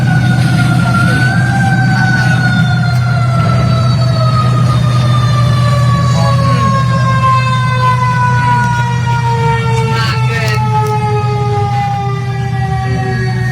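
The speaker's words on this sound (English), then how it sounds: "Here comes another. Engine 2 is on the scene." A fire engine arrives at a burning courthouse, its siren wailing steadily and loudly for the whole stretch over a deep, constant engine rumble, with a brief spoken remark partway through.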